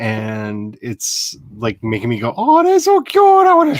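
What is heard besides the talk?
None of the usual background noises is heard.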